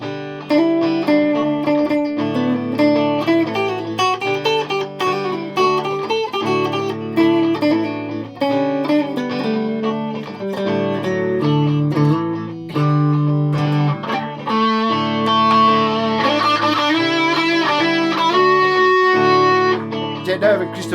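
Electric guitar run through a Lekato looper pedal with reverb and distortion, layered sustained chords and melodic lines played continuously and loud, no talking.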